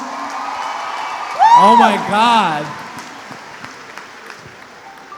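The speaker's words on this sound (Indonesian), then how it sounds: "Tolong beri tepuk tangan sekali lagi." Broadband clapping and crowd noise roll through the whole stretch, while a voice lets out two loud, excited exclamations near the start.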